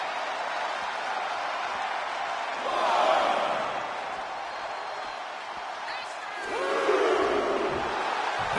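An arena crowd in the WWE 2K25 wrestling video game roars continuously, swelling into two louder surges of cheering, while commentary voices talk over the top.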